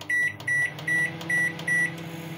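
An ASDA George Home microwave oven runs with a steady low hum, while five evenly spaced electronic beeps ring out clearly over it, close and alone with no talk.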